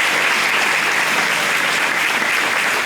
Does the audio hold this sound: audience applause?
yes